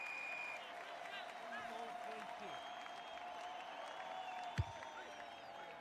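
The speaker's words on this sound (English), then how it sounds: "Good to know there's a few appreciation messages from the crowd." A stadium crowd in the AFL 26 football game applauds and murmurs steadily at low level, with a continuous bed of clapping and crowd noise and a brief sharp thud near the end.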